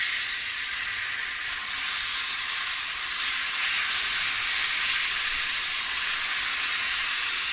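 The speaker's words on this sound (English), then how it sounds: "I'm just going to put some into our hot wok with the fat that we had left over" Kimchi crackles in a hot wok with leftover fat in a continuous bright, hissing sizzle that grows slightly louder midway, close and steady with no speech.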